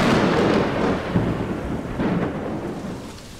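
Rain falls on scorched grass as a dense, steady hiss with a deep rumbling undertone, fairly loud and close, slowly fading toward the end.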